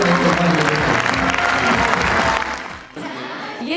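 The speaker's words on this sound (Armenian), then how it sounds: "Եկեք բարձր ծափահարենք" Audience applause at a vocal studio concert in a theatre, a dense close burst of clapping from a crowd that swells and then fades out near the end, followed by quieter room sound.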